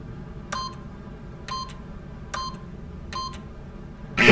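A keypad in The Stanley Parable gives four separate electronic beeps, about a second apart, as a code is entered, followed by a short louder clunk at the end.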